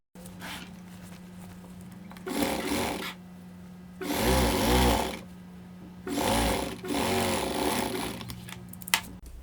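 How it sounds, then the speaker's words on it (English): A sewing machine stitches shirt sleeve panels together in several bursts of rapid mechanical whirring, separated by short pauses and a faint steady hum, close and fairly quiet. "I'll just close the circle by sewing these 2 together"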